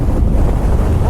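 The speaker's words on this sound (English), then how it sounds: "Whoa, windy," Steady wind roars and buffets the microphone while riding a Kawasaki Z900 RS motorcycle past a wind farm, a loud continuous low rumble with no pauses.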